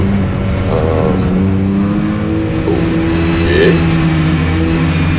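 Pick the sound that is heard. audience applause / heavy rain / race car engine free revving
race car engine free revving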